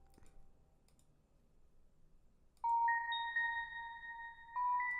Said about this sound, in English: I actually really like this ARP that was in there.